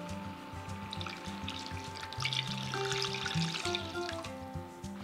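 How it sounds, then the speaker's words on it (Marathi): Water pours into a pan of salted, sautéed peas, a rushing, splashing stream that swells midway and runs for several seconds over soft background music. "यामध्ये घालूयात पाणी"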